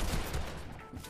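Rapid, dense burst of video game gunfire in Fortnite, loud and close, packed into about a second with no talk over it.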